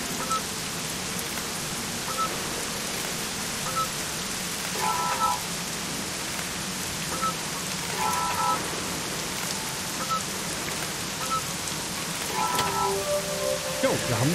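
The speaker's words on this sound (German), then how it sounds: "Es regnet schon wieder." Steady video game rainfall with pattering drops, accompanied by faint, sparse electronic chime-like tones in the background.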